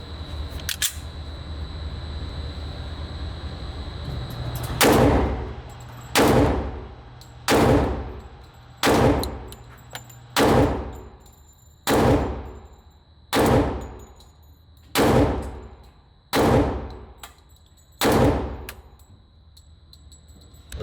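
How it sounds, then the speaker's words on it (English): A Springfield Armory XDM Elite 10mm pistol fires hollow-point rounds at an outdoor range. About ten loud, sharp shots ring out close by at a steady, unhurried pace, each with a short echoing tail. "Shoot the hollow points."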